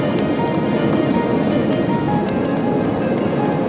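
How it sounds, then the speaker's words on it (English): Dense, steady crackling and pattering like light rain, made by countless sandhoppers swarming on a beach, continuous and close for the whole stretch. "That is the sound of sandhoppers."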